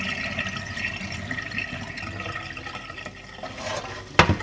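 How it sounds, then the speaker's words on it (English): Starchy water drains from a pot of freshly boiled rice in a steady, close gush that runs on without pause and ends in a short knock. "Now we are draining out most of the starch."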